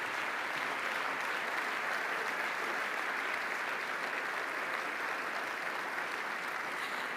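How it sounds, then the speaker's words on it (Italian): An audience at an economy and development award ceremony applauds steadily, a broad, even wash of clapping from many hands that holds at a moderate level throughout. "Allora un applauso per Maurizio Vidoni"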